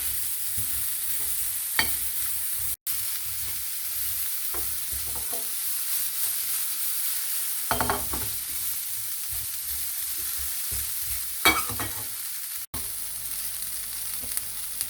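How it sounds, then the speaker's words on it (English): Continuous sizzling of cauliflower frying in a pan with turmeric and fresh chilies, with occasional scraping stirs and clinks of a utensil; no talking. "Fry the cauliflower until light brown."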